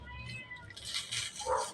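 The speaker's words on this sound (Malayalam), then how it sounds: "എൻ്റെ ഒരു പൂച്ചക്കുട്ടി അവിടെ ഈ മീനിൻ്റെ തലയ്ക്ക് വേണ്ടി കിടന്ന് കരഞ്ഞു പിടിക്കുന്നതാണ്" A kitten cries insistently for a fish head while fish is being cleaned, making a few drawn-out rising and falling meows, fairly quiet and close, with no talking.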